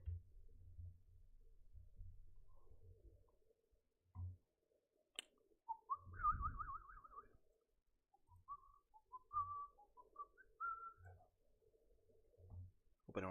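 A person whistles a short, wavering melodic phrase followed by a few brief scattered notes, near and fairly quiet, with clicks and low rumbles around it.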